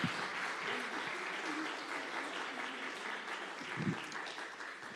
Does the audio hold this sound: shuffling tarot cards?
no